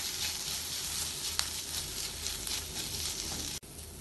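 Steady sizzling of spice powders, garam masala and cumin, being stirred and sautéed in a hot pan for an egg paplet filling, a continuous close hiss with a faint scrape and a brief clunk near the end.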